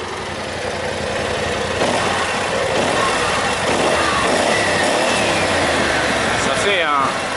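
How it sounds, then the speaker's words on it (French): A BMW C 650 Sport scooter from 2016 with a new exhaust idles with a steady, raspy rumble, close by and continuous, while a person talks over it. "Et écoutez ce nouvel échappement."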